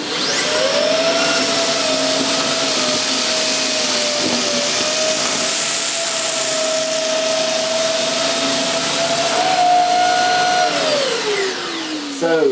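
A Dyson CY22 Cinetic Big Ball Animal vacuum cleaner runs with its turbine nozzle fitted, giving a loud, steady whirring roar with a high motor whine that holds throughout, then winds down near the end.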